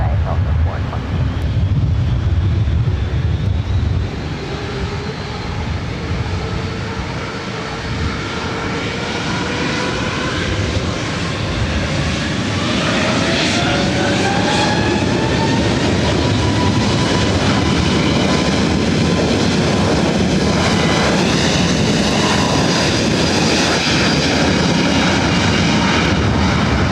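Delta jet taking off from runway 24 right at LAX: a loud, continuous roar of jet engines that swells and shifts in pitch as the aircraft powers down the runway, with faint radio chatter in the background.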